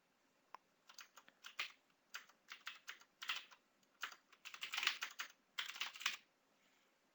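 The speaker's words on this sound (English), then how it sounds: "now I can enter my card information." Bursts of typing on a computer keyboard while card details are entered, quick clustered keystrokes with short pauses between groups, fairly close and moderately quiet, no talking.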